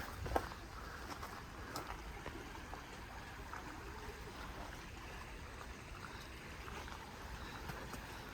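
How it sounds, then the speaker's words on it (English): An ice-cold stream in Fern Canyon, a fern-covered river, flows with a faint, steady wash of water that continues unbroken, with a small knock near the start. "wading through the ice-cold stream"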